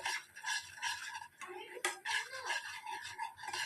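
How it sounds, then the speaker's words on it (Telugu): A utensil stirs milk powder into hot sugar syrup in a pan while making coconut burfi at home, giving soft scraping and clinking strokes in a repeating rhythm, close and fairly quiet. "మిల్క్ పౌడర్ వేసుకొని కలుపుకోవాలండి"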